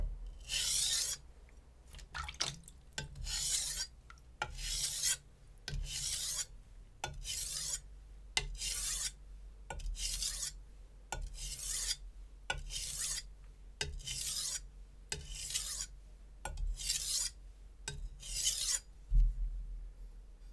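A Zwilling chef knife is drawn over a Japanese whetstone in steady repeated strokes, each a bright scraping rasp, about fifteen passes in a regular rhythm, close and clear with no talk.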